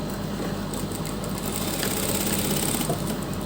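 A sewing machine runs steadily, stitching a folded, doubled fabric strip at a kurti neckline; a continuous close whirring hum with no speech.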